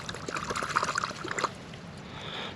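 Water trickles and splashes over a small metal bell dug up from a meadow, a close, uneven pouring and dribbling for about a second and a half before fading to a quieter wash.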